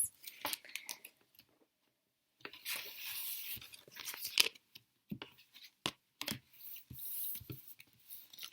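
Tarot cards being gathered and cleared off a table, with bursts of papery shuffling, sliding and tapping separated by brief quiet gaps, close and fairly soft.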